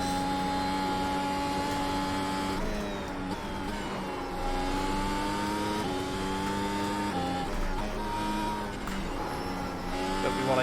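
A Mercedes Formula 1 car in a racing video game accelerates hard on the Nordschleife, its high-pitched engine whine rising steadily through the gears as a loud, continuous tone.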